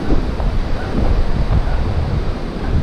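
Sea waves roll onto a beach at high tide beside a concrete and stone sea wall, a loud continuous wash with wind buffeting the microphone.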